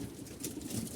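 Pigeons kept in a woven basket coop coo steadily in a dense, continuous murmur, close and moderately loud, with no clear pauses.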